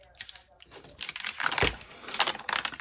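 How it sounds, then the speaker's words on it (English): Coffee-dyed paper being torn and handled up close, a series of dry crinkling, ripping bursts in uneven rhythm, growing louder toward the middle and ending. "Let me just tear this and see what would happen"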